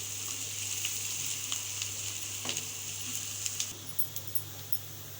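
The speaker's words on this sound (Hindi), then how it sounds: "अच्छे से इनको भी हम इसके साथ भून लेंगे।" Chopped green chillies frying with okra in a pan for masala bhindi, a steady close sizzle with small crackles and stirring clicks, no voices.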